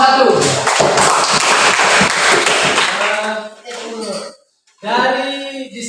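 A classroom breaks into clapping for a student discussion group, with a dense, lively burst of applause lasting about three seconds that fades into voices talking.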